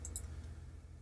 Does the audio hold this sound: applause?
no